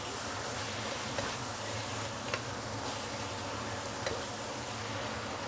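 Beef, vegetables and flat rice noodles sizzle steadily in a hot wok while being stir-fried, a dense continuous frying hiss with a few faint clinks of the spatula.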